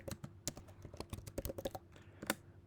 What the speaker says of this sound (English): in the URL bar just type Clownfish